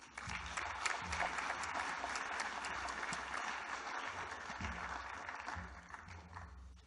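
Audience applause fills the hall at a health conference keynote as a speaker is welcomed to the podium, steady sustained clapping from a sizeable crowd that fades slightly toward the end.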